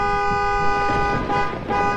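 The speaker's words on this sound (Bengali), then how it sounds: "এটা গাড়ির আওয়াজ ছিল না?" A car horn blares continuously for about two seconds, loud and close, with a slight dip and wobble in the middle before it resumes, over a low rumbling background.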